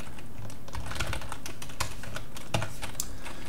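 Rapid typing on a computer keyboard while writing a software test, crisp clustered keystrokes up close in irregular bursts, nobody speaking.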